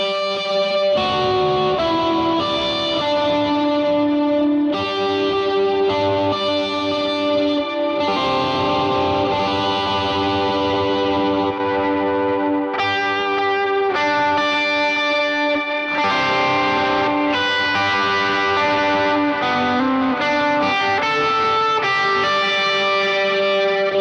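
A distorted electric guitar through a ToneX V2 capture plays sustained chords and notes with a little sizzle, each ringing out with echoing delay and a wash of reverb.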